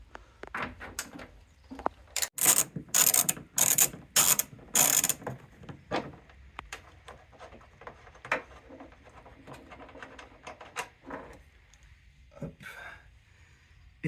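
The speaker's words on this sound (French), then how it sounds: "peut venir desserrer l'ensemble des fixations" Small cap nut fixings on a Jeep Grand Cherokee WK2 tail light are loosened, giving a rapid burst of sharp ratchet clicks up close, then scattered lighter taps and clicks of handling and fumbling parts.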